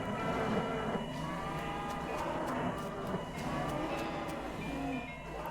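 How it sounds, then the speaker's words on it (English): Ominous cow mooing in the video game West of Loathing, a drawn-out low bovine moan that wavers over a rumbling backdrop and fills the scene at moderate loudness. "You hear ominous mooing."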